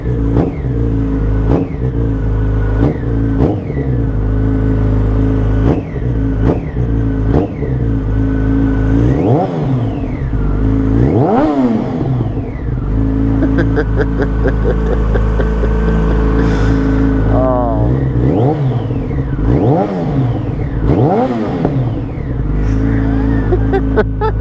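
Motorbikes being started and revved after five months in storage, loud and close, with repeated throttle blips rising and falling over a continuous engine rumble and no talk.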